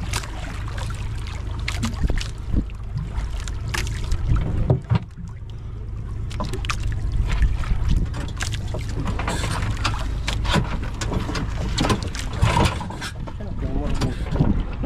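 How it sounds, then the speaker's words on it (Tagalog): Wind gusts over a small wooden outrigger boat (bangka) at sea, a steady rough rush with buffeting mic noise and water sloshing, loud and continuous throughout, with people talking now and then. "Hindi, mahangin lang."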